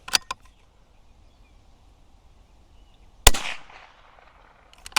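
A rifle fired through a Discovery HD GEN-II scope at a 2/3-size IPSC steel target: one sharp, loud report followed by a short ringing decay, with faint clicks before it and a quiet outdoor background.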